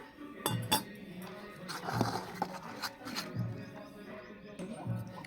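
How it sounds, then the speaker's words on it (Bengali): Gram flour batter with a pinch of soda being whisked in a bowl for aloor chop, repeated clinking strokes against the bowl in an uneven rhythm, close by with no talk. "ভালোভাবে ফেটিয়ে নেব কিছুক্ষণ"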